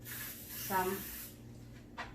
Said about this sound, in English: any of the spray that you have, non-stick spray.